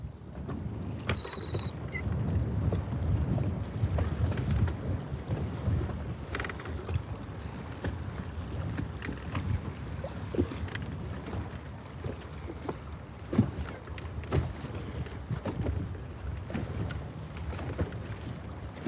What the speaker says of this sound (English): The wind picked up as soon as I came back out.